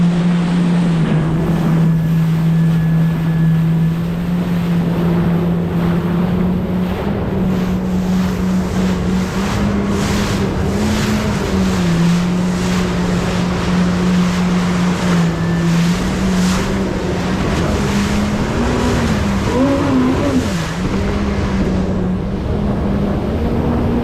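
A jet ski motors steadily through a shallow channel, its engine holding a loud, continuous drone that wavers slightly in pitch over rushing water and wind.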